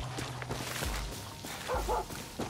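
A dog in the Far Cry 6 video game barks and yips in a quick series of sharp barks, close and fairly loud, with some whimpering and no talk.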